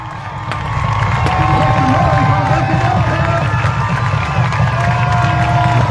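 A large crowd cheers and roars steadily at a Benson Bobcats versus Tombstone Yellowjackets high school football game, the dense noise swelling after the first second and staying loud, with faint voices within it.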